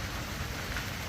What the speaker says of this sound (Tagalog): Umuulan nga lang.